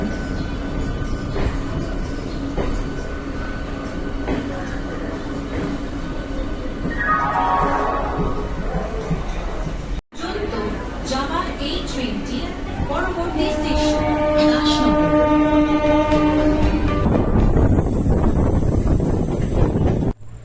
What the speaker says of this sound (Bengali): এই সময় গাড়িটা ছাড়ছে, মানে ট্রেনটা খুবই লেট।